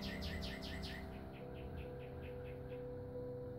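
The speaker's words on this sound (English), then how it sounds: "You hear those birds?" Faint birds chirp outdoors in quick repeated trills over a steady low background hum.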